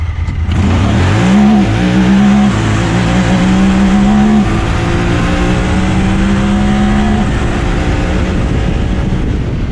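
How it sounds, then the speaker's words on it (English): Two Honda Talon 1000R side-by-sides drag race across sand dunes, their engines roaring loud and close as they launch and rev up through the gears, a steady high-pitched drone with no talk. "It's time for a drag race."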